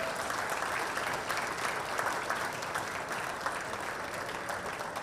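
Sustained applause from the audience at a shooting World Cup 10 m air pistol men's medal ceremony, steady and moderately loud throughout, a dense wash of many hands clapping.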